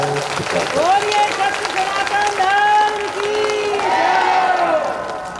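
Applause from a crowd at a Hindu religious discourse swells for several seconds, a broad clapping wash mixed under a loud voice speaking or chanting over it.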